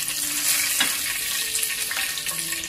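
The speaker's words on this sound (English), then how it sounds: "Now add the marinated fish and fry until they are nicely golden on both sides." Marinated fish fry in hot oil in a pan, making a loud, continuous close sizzle with scattered pops and crackles, without any talking.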